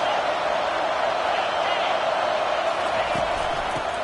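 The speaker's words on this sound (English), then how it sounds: "this crowd is turning it up a notch" A stadium crowd roars steadily and loudly throughout a College Football 25 video game broadcast, a dense continuous wash of cheering with no clear rise.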